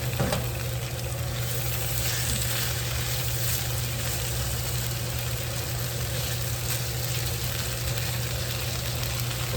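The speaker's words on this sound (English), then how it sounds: "Right now, I'm just letting the onions and the smoked sausage from the grease flavor everything." Onions and smoked sausage frying in grease, a steady, close sizzle and crackle that holds evenly throughout, with a low hum underneath and no talking.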